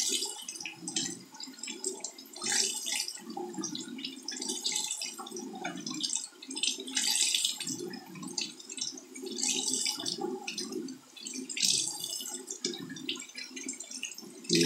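Tap water runs steadily while a makeup brush is rinsed under it, a close, continuous splashing hiss with small fluctuations and drips throughout, and no voices.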